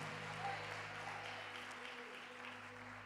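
A church congregation claps during a Spanish-language service. The applause is soft and steady with a low hum underneath.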